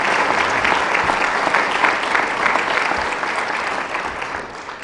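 An audience claps throughout at a public library grant acceptance ceremony, a dense, steady wash of many hands that fades slightly toward the end, with no voices over it.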